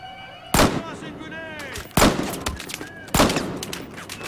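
Gunfire in the shooter game Battlefield Hardline: three loud, sharp shots about a second and a half apart, each trailing off in a ringing echo.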